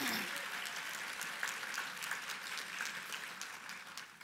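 Audience applause for finalist presenters at the All-America City Awards, a soft, distant patter of clapping with scattered sharper claps, steady and fairly faint throughout.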